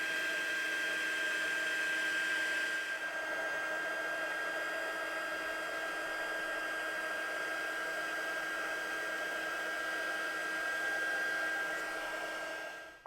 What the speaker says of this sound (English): the sound of the heat tool reminds me of my hairdryer